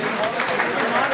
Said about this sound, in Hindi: उसके लिए भरपूर तालियां उस बच्चे के लिए